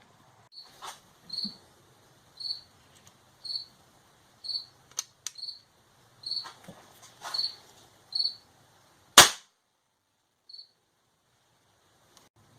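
An antique Flobert parlor pistol fires a blank as one sharp, loud crack partway through, preceded by quiet mechanical clicks and a faint, regular high chirping in the background.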